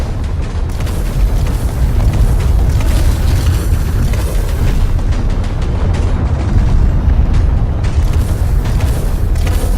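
Gun fire in the Space Engineers video game, heard as a loud, sustained booming roar that fills the whole stretch without a break.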